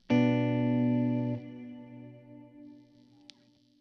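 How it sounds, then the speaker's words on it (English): An electric guitar played through a slow Cirrus reverb on a Kemper profiler rings out as one loud sustained chord that cuts off abruptly, leaving a long, soft washing reverb tail that fades out alone. "I'm gonna bring up a Cirrus Reverb. Here's a slow one."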